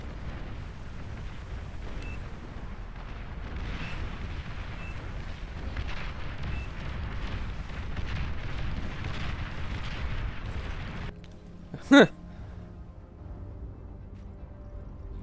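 Frigates shelling the shore in the strategy game Beyond All Reason, with a steady rumble of distant booms under a continuous din, then a single loud sharp blast near the end.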